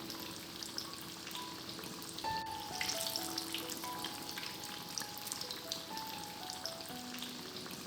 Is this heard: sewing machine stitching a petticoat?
no